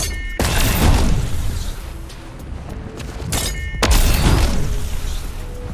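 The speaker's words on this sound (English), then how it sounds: "I've noticed that the shockwave grenades changed from this to their OG sound effect" Original shockwave grenade effect from Fortnite Chapter 1: two loud, near booming blasts with a crackling burst, each decaying into a rumbling tail, the second louder than the first.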